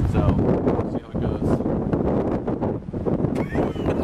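Strong gusting wind buffets the microphone outdoors during a helicopter flight, a loud continuous low rumble with surges and brief lulls.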